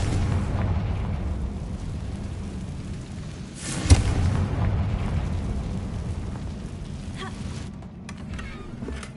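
A Confringo spell goes off in a Harry Potter video game as one sharp explosive burst near the middle, set against a dull, rumbling game soundscape.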